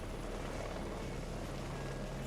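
A helicopter rotor in the combat game Heliborne chops steadily and loudly. The roar is dense and continuous, with no talk over it.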